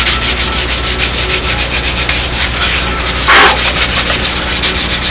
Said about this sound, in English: we're just final sanding out the fillet again with the radius block